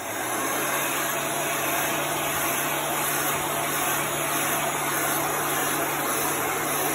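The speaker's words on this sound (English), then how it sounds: "We'll dry this with this heat gun." An industrial heat gun drying a chalk transfer blows with a constant, loud whooshing roar and a steady low motor hum, unchanging from start to finish.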